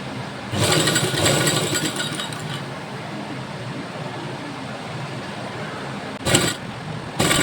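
A domestic sewing machine runs steadily and close up, stitching the lining of a kurti made from an old saree, with its mechanical whir holding even for several seconds and short bursts of higher clatter near the end.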